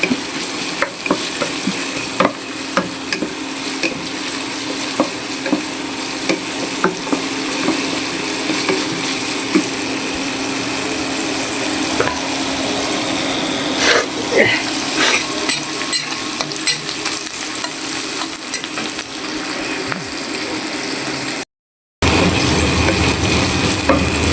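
Jute leaves and koi fish frying in hot oil in a home kitchen, a steady loud sizzle with scraping and stirring clatter throughout, broken by one brief dropout near the end.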